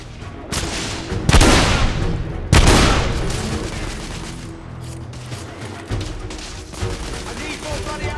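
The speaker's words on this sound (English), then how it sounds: "I'm under heavy fire!" Heavy gunfire in The Order: 1886, with loud close shots and booming blasts over a continuous rattle of distant fire and clatter, and a voice speaking briefly partway through.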